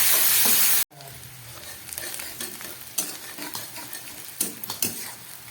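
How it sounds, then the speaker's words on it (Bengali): Chopped onion and a dried red chilli hit hot oil already frying cumin and bay leaf, giving a steady close sizzle with scraping stirs and a few louder spatters, no voices. "এবার দিয়ে দিচ্ছি একটা শুকনো লঙ্কা, আর সঙ্গে দিয়ে দিচ্ছি এই কেটে রাখা পেঁয়াজ।"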